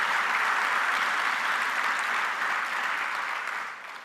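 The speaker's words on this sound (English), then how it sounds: "Let's give a round of applause to our great Commissioner of Labor, Roberta Reardon." Steady audience applause at a building trades union conference where the Governor of New York is speaking, a dense, even wash of many hands clapping that holds loud for about three and a half seconds, then begins to fade.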